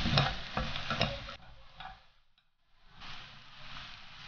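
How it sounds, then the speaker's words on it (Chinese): Winter melon with minced garlic is stir-fried in a wok, a dense sizzle with scraping stir strokes early on, dipping briefly almost to silence before the frying sizzle returns. "再翻炒一会儿"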